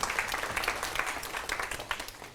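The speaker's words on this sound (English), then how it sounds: "Why don't you give her a round of applause" An audience at a health research methodology session gives a brief round of applause, with quick overlapping claps forming a lively, uneven patter over a couple of seconds.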